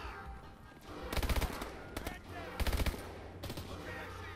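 Automatic gunfire in Call of Duty Advanced Warfare, loud rapid bursts in three or four separate clusters with quieter gaps between, close and sharp.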